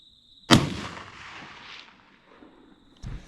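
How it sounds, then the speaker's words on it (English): Single rifle shot fired at a fallow deer while hunting in an NSW state forest, a sharp, loud crack followed by a long rolling echo through the bush, then a fainter thump near the end. "I lined one up and took the shot."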